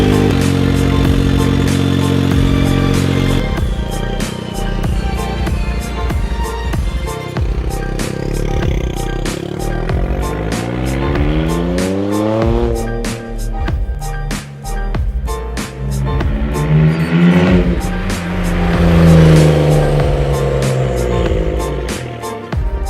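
A Smart ForTwo with a new homemade exhaust revs hard and loud, rising and falling engine tones climbing repeatedly over a steady close rumble with some clatter, no talking.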